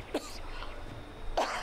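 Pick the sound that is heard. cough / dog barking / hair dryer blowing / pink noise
cough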